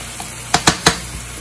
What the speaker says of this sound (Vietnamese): Mình đảo cho đều lên